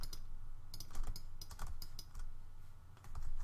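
Computer keyboard keys pressed in quick irregular bursts during an Adobe Illustrator session, including a Command Z undo, close and steady over a low background hum.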